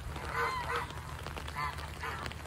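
Geese honking in a few loud, close bursts of nasal calls, repeated in a rough rhythm over a low steady hum.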